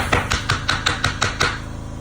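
Eight sharp, evenly spaced whacks on an HDPE bath bomb mold sitting in a press, hard plastic knocks struck close and loud in quick succession.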